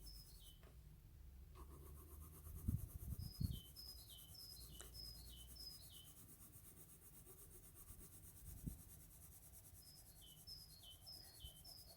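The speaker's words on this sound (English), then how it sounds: "The other sound, it's a robin or a wren." Faint birdsong from a robin or a wren, short high descending chirps repeated in little runs, heard at a distance against a quiet backdrop with a few soft rubbing and tapping noises nearby.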